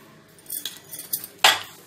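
A spoon stirs sugar into mango rava kesari in a pan, making a few light metallic clinks and scrapes, with one sharper clatter near the end and quiet gaps in between.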